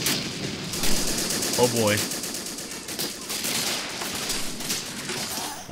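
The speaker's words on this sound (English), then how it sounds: "I'm also going to get this guy to get on that machine gun." Machine-gun fire rattles in Men of War Assault Squad 2 during a Battle of the Bulge fight, with repeated rapid bursts and scattered gunfire filling the whole stretch. Someone briefly speaks over the din.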